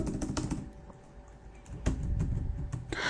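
Fingers tap out a password on a computer keyboard in short bursts of clicky keystrokes, with a brief pause in the middle and a denser flurry near the end, close and fairly clear.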